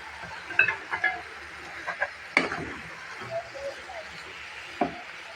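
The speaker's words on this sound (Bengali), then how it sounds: "এখন আমি সুন্দর করে নাড়াচাড়া দিয়ে একটু ঢেকে দেব" Prawns and cabbage with green chillies and tomato being stirred in a pan, giving a faint sizzle under a series of separate scrapes and clinks of the utensil against the pan.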